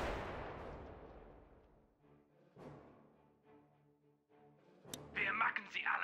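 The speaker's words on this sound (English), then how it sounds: "Gun turret deployed." A gun turret fires in the mobile strategy game Battle Islands: Commanders, opening with one loud booming shot that decays slowly, followed by fainter thumps and a burst of bright crackling at the end.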